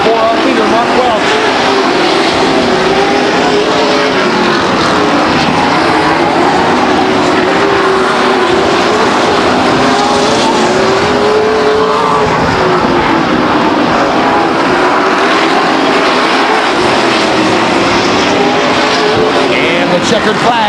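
Race cars roar around the Stockton 99 Speedway oval during a 50-lap main event, a loud continuous engine drone with shifting pitch as cars pass, while a track announcer talks over the noise.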